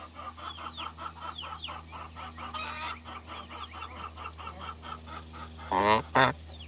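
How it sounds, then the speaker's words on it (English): A flock of chickens clucks in a quick, repeating series of nearby calls, with a couple of louder squawks near the end over a faint steady background hum. "the chicken noises I could listen to"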